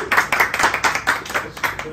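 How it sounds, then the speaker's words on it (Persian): Brief applause from the players at a Mafia party game as an eliminated player leaves, a few rhythmic bursts of hand claps with voices mixed underneath. "تشویقش کنیم"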